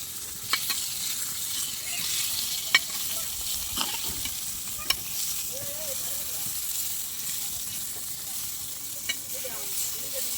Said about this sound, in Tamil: மீனை போட்டு அது மேலே எண்ணெய் விட்டுணும் மக்கள்ஸ்.